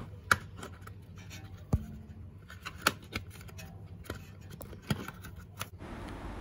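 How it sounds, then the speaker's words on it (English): A plastic cover on a BMW is opened near the wheel speed sensor during a repair, giving sharp close plastic clicks and snaps with light scraping and handling noises between them. "Open this plastic cover."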